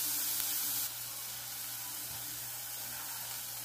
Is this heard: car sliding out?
no